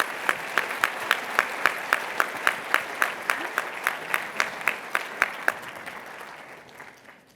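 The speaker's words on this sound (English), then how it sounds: "Round of applause." Applause from a conference audience thanking a discussion panel at the Growing Global 2024 event, with regular sharp claps standing out over a steady bed of clapping that slowly fades away.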